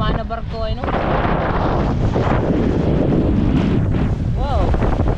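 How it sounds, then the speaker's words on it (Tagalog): Heavy water and wind roar continuously near the microphone on a boat, with waves from a passing ship's wake churning and splashing throughout; brief voices cut in at the start and near the end. "Mas lalaki pa itong mga kabisig ng alon kasi may dumaan na barko ay no?"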